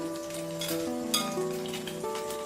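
Egg-soaked bread for French toast sizzles steadily in hot oil, a soft continuous crackle running under background music throughout.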